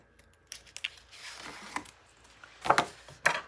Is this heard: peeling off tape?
yes